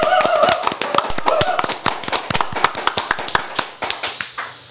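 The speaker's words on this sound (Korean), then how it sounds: "박수로 환영하겠습니다" A small studio audience on a Korean talk show claps to welcome two guests: sharp, close handclaps in an uneven patter that thins into fewer, spaced claps as it winds down.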